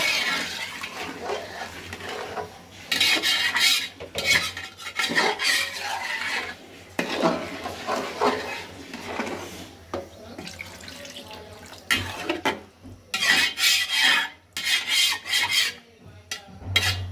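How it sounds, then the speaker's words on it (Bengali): Water splashes and pours into a pot of rice during fried-rice preparation, in uneven bursts of running and swishing water with rubbing and scraping sounds between, close by and fairly loud, with brief quiet gaps. "এখানে পানি দিয়ে দিচ্ছে।"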